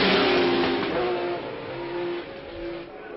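Race cars at the 1963 Monaco Grand Prix, including those of Graham Hill and Surtees, roar past on an old, muffled recording, their loud engine notes falling in pitch and fading as they go by.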